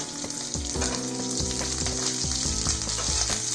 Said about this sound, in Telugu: ఇప్పుడు ఆనియన్స్ వేసుకుందాం. కొంచెం లైట్గా ఫ్రై చేస్తాం.